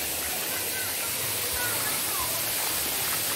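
Steady rushing splash of water falling from a spout at a lake, continuous and fairly loud, with a faint low rumble underneath and no one talking.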